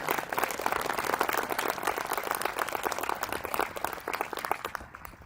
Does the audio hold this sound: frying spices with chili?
no